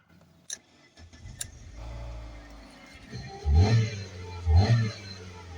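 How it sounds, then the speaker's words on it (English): A 2009 Honda Odyssey engine, just purged after vapor lock, cranks over and catches, then settles into a running idle before two strong close throttle revs swell and fall back. "I got it to purge, and it just cranks up and runs in response to throttle"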